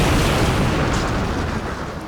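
Destroyed enemies blowing up in the shoot-'em-up Crimzon Clover make a dense, loud roar of overlapping explosions that rumbles on without a break and eases off slightly toward the end.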